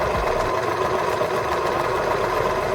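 A sewing machine stitches a shirt yoke to the front pieces of a Halloween-themed shirt, running as a steady, continuous mechanical whir that stays close and even throughout with no pauses.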